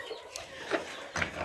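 Chickens in a farm pen with a red cockerel among them, a few soft clucks and short calls close by over a quiet barnyard background.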